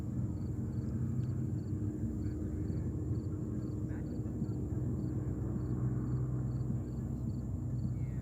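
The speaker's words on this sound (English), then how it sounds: "Next one on 22 left is American Airlines flight. What is it? Embraer 175. Flight 4489 coming in from Chicago O'Hare." An American Airlines Embraer 175, flight 4489 from Chicago O'Hare, lands on runway 22 left at JFK airport as a continuous, distant low jet rumble holding steady without clear peaks.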